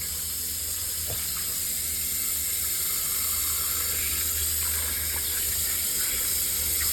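Cold water runs steadily from a tap over freshly dug clams at a beach clam dig, a continuous close hiss and splash with no talking.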